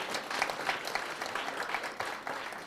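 Audience applause at a Black History Month celebration in Delaware County, a round of many hands clapping steadily at moderate volume from start to finish.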